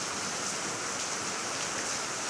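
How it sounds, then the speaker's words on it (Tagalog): Heavy rain pours down in a steady, dense hiss that fills the whole scene evenly from start to finish, with no voices over it. "Lakas ng ulan."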